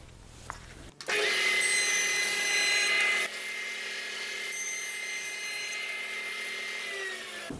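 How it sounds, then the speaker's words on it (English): Jointer truing the edges of 2x6 boards, sounding as a sudden loud motor whine with a cutting rasp as the wood is fed through, then easing to a steady lower hum as the pass ends. "As the pieces come off the joiner,"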